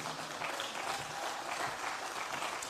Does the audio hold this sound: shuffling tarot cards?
no